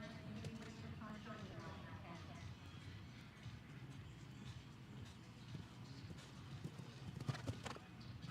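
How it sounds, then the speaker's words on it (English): Hooves of a 12-year-old Belgian-bred gelding clip-clopping around an FEI 5* 1.50m show jumping course, a quiet rhythmic patter of strikes under an announcer's commentary and distant arena ambience. "Lahar is a 12-year-old Belgian-bred gelding."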